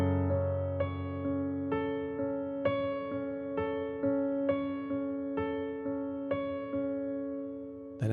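A piano repeats a chord from a piece, with an A held in the right hand over a full left-hand chord, struck about a dozen times in a steady pulse, each ringing into the next, clear and alone.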